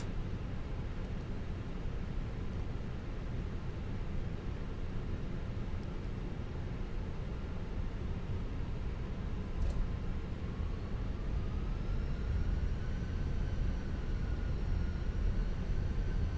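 Airbus A320 engines in Microsoft Flight Simulator 2020 during the takeoff roll on a Eurowings flight, a steady broad roar with a rising whine building slowly, with faint clicks and no talk.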